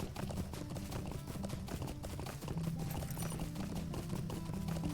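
Horse hooves clip-clop steadily in Lord of the Rings Online while riding through Combe, a continuous rhythmic trot mixed with in-game music and ambient sound.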